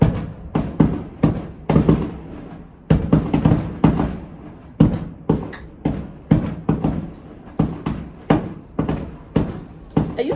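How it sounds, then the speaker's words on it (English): Fireworks go off outside in a rapid string of sharp bangs and thuds, some close together in bursts, others spaced out, each explosion loud and followed by a brief echoing decay. "It's just fireworks."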